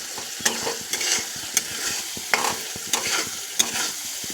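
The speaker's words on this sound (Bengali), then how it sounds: "এখন ভালো করে কষতে হবে। এটা যত কষবো তত সুন্দর টেস্টি হবে।" Curry with egg and potato is sautéed and stirred in a pan: a close, steady sizzle broken by about six sharp scrapes or taps of the spoon at irregular intervals, with no talking.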